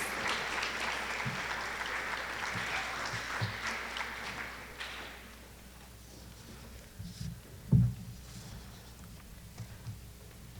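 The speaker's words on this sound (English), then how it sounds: "So again, another round of applause" At a junior high school awards ceremony, an audience gives a soft round of applause that fades out after about five seconds, leaving a quiet room with a single thump near the end.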